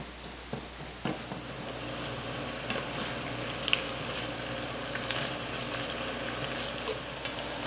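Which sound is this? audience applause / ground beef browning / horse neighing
ground beef browning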